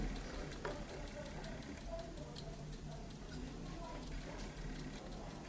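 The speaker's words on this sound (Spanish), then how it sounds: "Es como el sonido de las manecillas de un reloj," Faint, steady ticking like a clock's second hand from a faulty Samsung TV that won't turn on, repeating at a regular pace under a low background hum.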